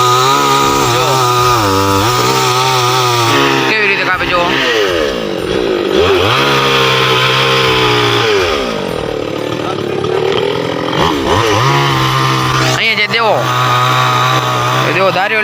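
A chainsaw cuts through a neem tree, its loud engine droning steadily the whole time and bogging down and revving back up as the chain bites into the wood, with no voices audible above it.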